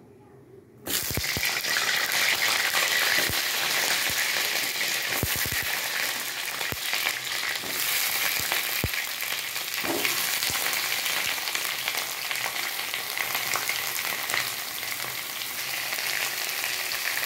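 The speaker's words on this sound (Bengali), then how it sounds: "এবার পটলগুলো আমি একে একে ভাজবো।" Pointed gourds frying one by one in four tablespoons of hot mustard oil in a kadai, a steady loud sizzle that starts abruptly and holds throughout, with occasional utensil clinks.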